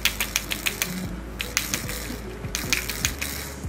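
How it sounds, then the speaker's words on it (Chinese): Lanston BS17 bone conduction headphones creaking as they are handled close up, a series of sharp, irregular plastic clicks and crackles with short gaps between them. "就一拿到手就有一种咯吱咯吱响的声音"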